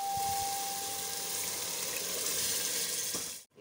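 Water, about one and a half glasses, poured into urad dal fried in ghee for dal mash, a steady rushing hiss and sizzle that cuts off abruptly at the end.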